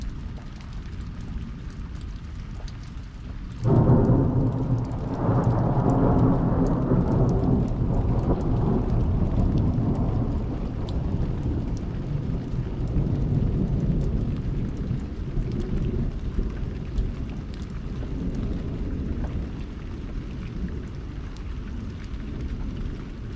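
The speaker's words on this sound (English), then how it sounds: "we've had about half an inch of rain in the last half hour" Heavy desert rain with thunder: a loud rolling thunderclap bursts in a few seconds in and rumbles on for several seconds, over a constant hiss of pouring rain that persists to the end.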